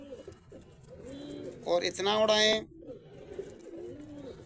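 Pigeons coo softly nearby in low, repeated rolling calls, while someone speaks loudly over them for a moment in the middle.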